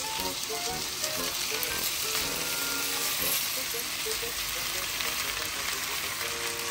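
Seafood paella rice stirred and fried in a pan gives a loud, dense, continuous sizzle with spoon scrapes and clinks, while background music plays underneath.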